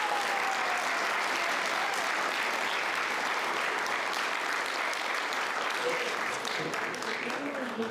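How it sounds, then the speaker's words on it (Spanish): An audience gives steady, even applause after a lecture on piano keyboard mechanisms, a dense wash of clapping that holds at a fairly constant level for several seconds. "Repetimos el aplauso"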